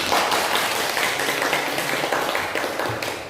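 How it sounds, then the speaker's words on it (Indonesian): Schoolchildren clapping together in a classroom for a student's correct answer, a short burst of dense, lively applause that stays even and slowly thins toward the end. "Kasih aplaus dulu"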